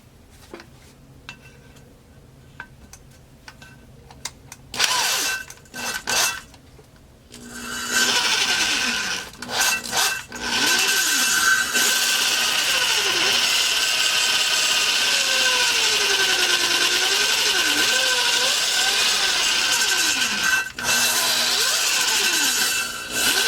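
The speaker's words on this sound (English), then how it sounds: "Thing about grinding valve seats," Valve seats from a truck-engine-swapped V6 MerCruiser ski boat engine are ground with a power tool. There are a few short bursts, then a sustained whining grind with pitch wobbling as the load changes. It is close and loud, with no talk.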